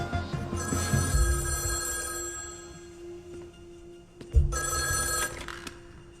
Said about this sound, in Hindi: जनाब, आपके लिए फोन है।